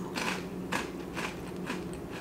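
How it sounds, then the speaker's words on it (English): Crisp crunching of Cheetos Smoky Ghost Pepper puffed corn snacks being bitten and chewed close up, about five distinct crackly bursts at a steady rhythm with no talking. "My little Cheetos, that nice little crunch."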